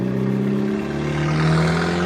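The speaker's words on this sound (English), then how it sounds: "That car's muffler was so fucking loud" A car with a very loud muffler drones steadily nearby, a deep, rough engine roar that swells slightly as it revs.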